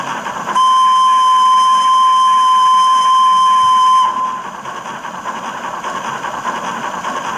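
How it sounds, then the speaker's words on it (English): A loud, steady steam whistle from a Bachmann sound-fitted V2 class model steam locomotive blows for about three and a half seconds over a hissing background, then cuts off, leaving the hiss. "The whistle."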